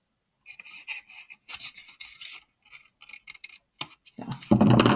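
Small snips trimming the bottom edge and corners of folded note paper for a calendar pen desk tidy, a run of quick, close crisp cuts and rustles, with a louder paper crackle at the end.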